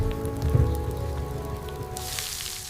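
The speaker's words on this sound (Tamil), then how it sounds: "கடுகு, உளுத்தம் பருப்பு, காய்ந்த மிளகாய் போட்டு நல்லா பொரிய விடணும்." Mustard seeds, urad dal and dried chillies splutter in hot coconut oil in a tempering ladle, a dense, close crackle like heavy rain that pops steadily throughout.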